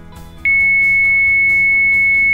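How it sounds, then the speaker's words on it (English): A Vesper WatchMate Vision 2 AIS transponder sounding its man-overboard alarm: a sudden, loud, steady high-pitched electronic tone that holds unbroken over faint background noise. "That first alarm comes as soon as the person hits the water."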